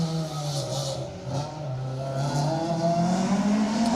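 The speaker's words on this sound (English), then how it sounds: "That is a glorious sounding car, and it's a beautifully prepared car as well, up close." A works-spec Chevrolet Chevette rally car on an asphalt stage of the Manx Rally, its engine revving loud and close with rising pitch as it accelerates, with a brief squeal of tyres.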